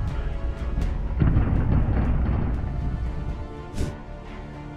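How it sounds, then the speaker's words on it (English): A lightning strike hits a light during a storm over a flooded road, setting off a loud, deep broadband rumble of thunder that swells and slowly fades, with sharp crackles. "Startling, lightning is no joke."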